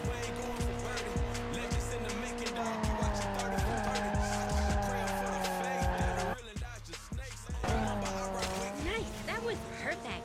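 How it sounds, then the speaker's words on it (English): A car drifts in the Need for Speed Mobile racing game: loud, sustained tire squeal and skidding over a steady, humming engine tone, with a brief drop-out near the end before the screech resumes. "Drifting's not just fast, but skillful. Nice drift. Want to show me again?"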